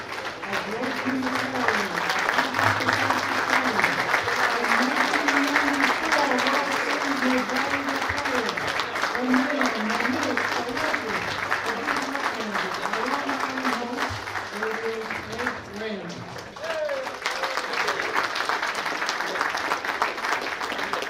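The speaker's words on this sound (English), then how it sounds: "Please stand up, cheer for our national treasure." A dinner audience at the NY Pro Scouts Hot Stove League event applauds and cheers in sustained, dense clapping, with a voice talking over the crowd throughout.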